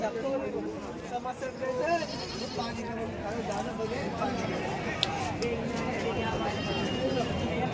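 Goats bleat at a crowded goat market in Dondaicha, their intermittent calls mixed into a steady babble of people talking nearby throughout.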